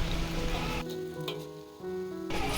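Sliced jengkol beans frying in hot oil in a wok, a steady close crackling sizzle that dips quieter for a moment midway, then returns at full strength.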